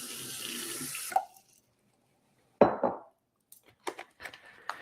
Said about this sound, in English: You add water, and we'll go ahead and get that done now.